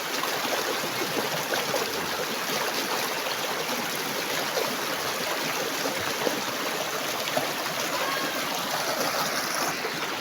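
A clear provincial river runs past at close range, a continuous bright rushing and babbling of flowing water with no voices, steady and fairly loud throughout.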